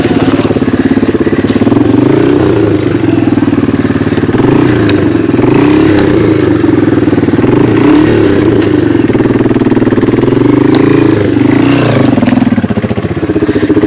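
A motor vehicle engine roars and revs continuously at close range while crawling over rocks off-road, stuck out of second gear, with rattling clatter from the rough terrain and a steady, loud drone throughout.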